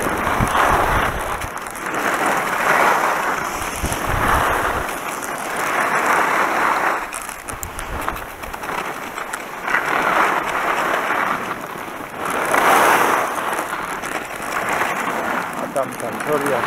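Constant wind buffeting a microphone in loud, surging gusts, with a voice speaking underneath.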